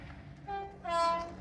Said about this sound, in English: Happy train.